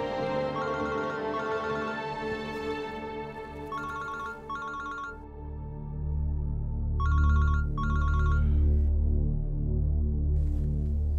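A telephone rings in short double trills, three bursts spaced a few seconds apart, over a low droning music background that swells toward the end.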